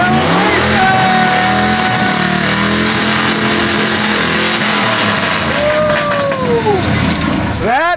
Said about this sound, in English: I got a Bronco and he's going to rev his engine.